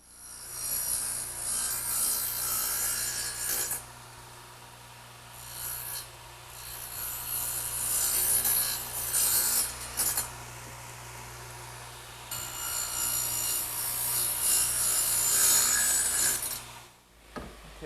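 A radial arm saw set to a 4-degree angle cuts wood in repeated passes, each a loud, harsh high whine with gaps of quieter running motor between cuts, close and with no talking.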